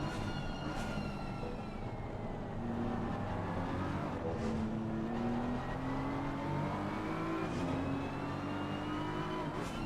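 BMW race cars battle for position at Laguna Seca in a racing video game, several engines droning and rising in pitch together as they accelerate, a dense continuous roar with no talk.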